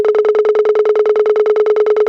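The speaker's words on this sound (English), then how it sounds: "Putting that through the plus pedal, you create originally this." High 808 congas run through the Plus pedal become a rapid stream of identical pitched pulses, about eight per second. The sustained tone stutters like a ringing phone, stays loud and even, then stops sharply.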